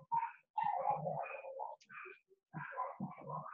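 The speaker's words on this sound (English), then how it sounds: "I apologize if you guys can hear my dogs barking" Several dogs barking and yipping indoors in short bursts with brief pauses between, moderately close, with a whimper-like whine mixed in and no talking.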